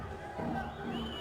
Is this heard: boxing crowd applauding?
yes